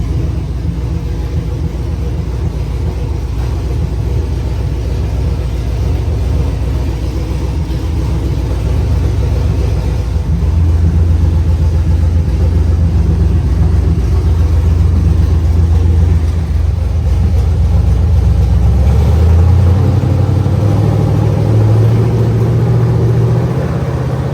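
An old car engine runs after firing up, a loud, close, continuous rumble that swells as the revs climb in the second half, with a rising drone near the end.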